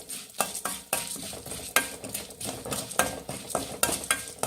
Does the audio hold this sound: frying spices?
yes